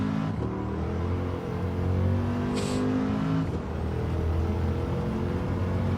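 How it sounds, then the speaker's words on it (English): Race car engine in a racing video game time trial, droning steadily and swelling briefly as it revs, with a short high whine partway through and no talk over it. "Love the engine sound."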